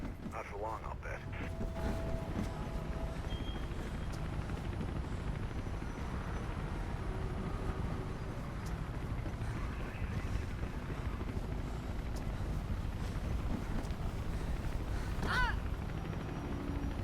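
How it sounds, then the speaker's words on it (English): A helicopter flies away in the video game Mirror's Edge, a steady rotor and engine drone with wind-like rushing that holds at moderate level, with a voice talking over it. "Chopper's got a call from its mama. It's bugging out."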